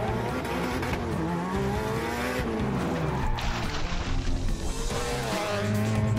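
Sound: cartoon car accelerating

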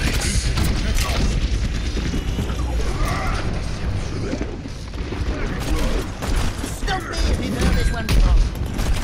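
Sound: Junkrat's bomb exploding in the video game Overwatch

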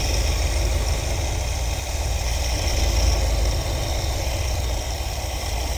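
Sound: 1973 Ford Econoline engine idling, Edelbrock carburetor

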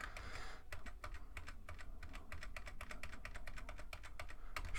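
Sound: pressing keys on a computer keyboard

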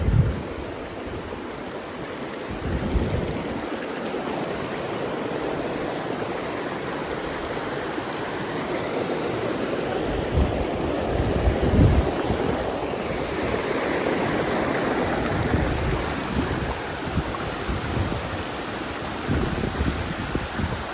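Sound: waterfall flowing at Poondi, Kodaikanal

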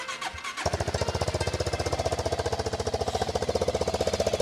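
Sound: Honda CB400SS or Suzuki Grasstracker motorcycle engine starting

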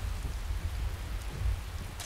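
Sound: thunder and rain in the video game Skyrim Special Edition

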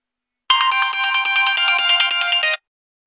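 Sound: phone ringtone of incoming call

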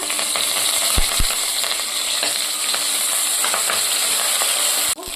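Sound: tempering: mustard seeds, green chillies, ginger, curry leaves sizzling

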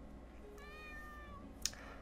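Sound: cat meowing in the video game Nightmare Of The Snow

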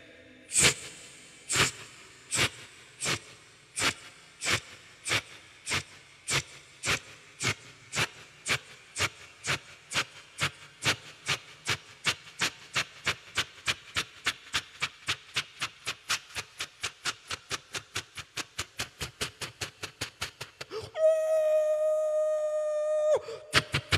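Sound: voice imitating a train slowly leaving the station

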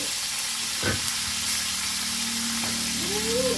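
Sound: salted fish frying in a pan

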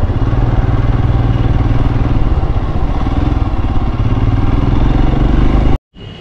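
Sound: Royal Enfield Himalayan BS6 motorcycle engine running

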